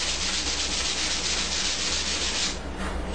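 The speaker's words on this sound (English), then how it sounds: "I've got 80 grit sandpaper, and I just work on sanding it along its length" Steady, close abrasive rubbing of 80 grit sandpaper along a guitar fretboard's length, continuous strokes with a brief shift near the end.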